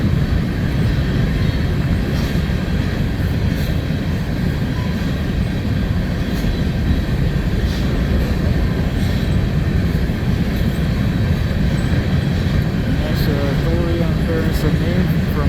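CN freight train hauled by AC44C6M locomotive 3337 passing at Bruce, Wisconsin, a steady loud rumble of rolling railcars with faint wheel squeal, close and continuous throughout.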